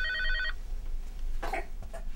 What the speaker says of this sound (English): That darn records phone is making more noise